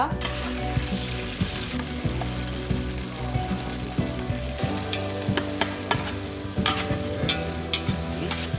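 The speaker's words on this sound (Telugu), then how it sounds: "మిక్సీ పట్టుకున్న ఉల్లి వెల్లుల్లి మిశ్రమాన్ని ఆయిల్లో వేసి దూరగా వేయించాలి" A loud, continuous sizzle of ground onion-garlic paste frying in hot oil for fish curry, with repeated scraping stir strokes throughout.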